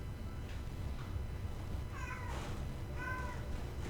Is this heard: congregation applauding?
no